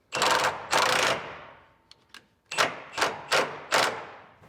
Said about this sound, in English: being lazy, I'm still going to use the big wrench